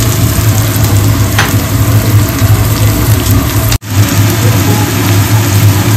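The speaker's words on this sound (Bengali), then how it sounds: "এখন আমি বিনস আর গাজরটা দিয়ে দিলাম, দিয়ে একটু ভাজা হোক" Beans and carrots fry in a pan with a loud, continuous sizzle over a steady droning hum, broken by one abrupt momentary cutout before resuming.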